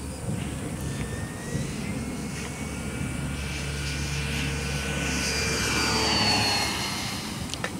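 An E-flite Draco 2.0m RC high-wing airplane flies overhead, its electric propeller whining steadily and swelling louder as it passes nearer, against a low outdoor rumble.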